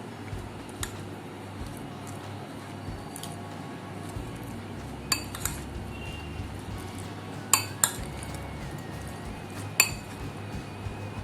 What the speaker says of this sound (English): Now give everything a good mix.